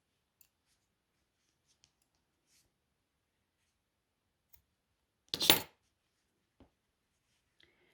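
Scissors give one short, crisp snip as they trim yarn ends on a tiny crochet amigurumi bumblebee, with a few faint clicks scattered around an otherwise quiet moment.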